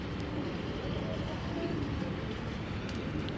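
Racing pigeons coo softly among a noisy loft crowd, their low calls blended into a dense, steady background murmur.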